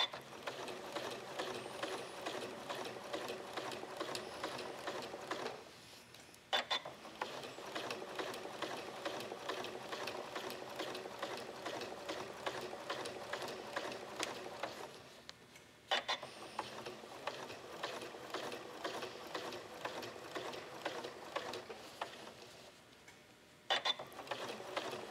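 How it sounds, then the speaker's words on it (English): Sewing machine with a walking foot stitching a spiral on a quilt, a steady rapid mechanical whirr and ticking that runs continuously with two brief pauses before restarting, close and moderately loud. "I'm gonna make sure that I stitch over the first few stitches that I made in that circle."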